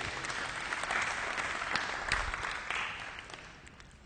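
A church congregation claps in a steady, dense round of applause that carries on for several seconds and fades slightly at the end, with no talking over it.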